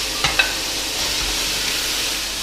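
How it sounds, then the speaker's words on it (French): Minced beef browning over high heat in a sauté pan with olive oil on an induction hob, a steady close sizzle with two quick clinks at the start. "je vais commencer par faire revenir mon bœuf haché"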